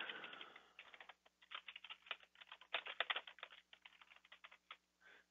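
Fingers tap quickly on a computer keyboard, a close, quiet run of crisp keystrokes in uneven bursts with brief pauses, over a faint background hum.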